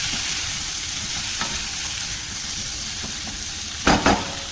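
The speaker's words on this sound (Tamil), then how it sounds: "கொஞ்சமாக உப்பு இப்போ கலந்து விட்டு இந்த சிம்லேயே இது ஒரு 5 நிமிஷம் வேகட்டும்." Cucumber kulambu simmering on a low flame with salt stirred in, a soft steady bubbling sizzle throughout, broken near the end by a couple of brief louder scraping stirs of the pan.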